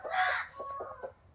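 Peruvian breeding rooster and pure Indian hens on a breeding farm cluck and call close by in one short, loud burst followed by softer, choppy clucks.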